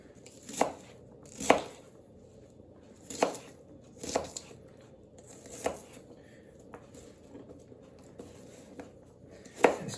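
Onions are chopped at camp with a Dispatch Knives DP8076-SB flipper folder in D2 steel. About nine crisp, close cuts land at an uneven pace against a quiet background.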